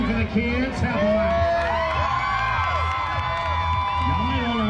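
Rodeo arena crowd cheers, whoops and screams for children in an event, a dense roar of many voices with shrill shouts rising and falling.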